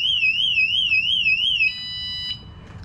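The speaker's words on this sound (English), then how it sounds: "set the alarm on the bike, and I'll show you how loud this thing is" Motorcycle anti-theft alarm blaring up close: a loud, piercing warbling siren tone that rises and falls rapidly, then changes to a steady electronic beep before cutting off.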